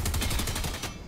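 A sniper rifle shot in a video game, part of a loud, dense burst of rapid gunfire with repeated sharp cracks over about a second before cutting off abruptly.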